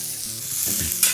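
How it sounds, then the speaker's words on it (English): Onions and mushrooms sizzle and stir in a hot pan for a mushroom Swiss smashburger, a steady close frying hiss with scraping turns of the utensil and a sharp burst of sizzle near the end. "I'm gonna add on my onions, as well as my mushrooms. Just get all of those mixed together."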